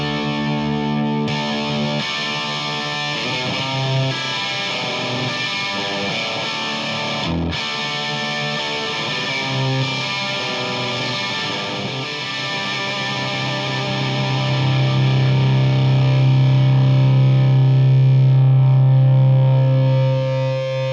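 Electric guitar through a Wangs Mini 5 watt tweed amp at maximum volume with a boost, playing loud, gritty distorted chords and notes that end in a long sustained ringing note.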